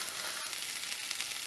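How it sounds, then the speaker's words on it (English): Beef sizzles and fries in a hot pan for larb, a steady close crackle with no voices. "Whenever I see a beef, you gotta hear that sizzle, and you know it's hot enough"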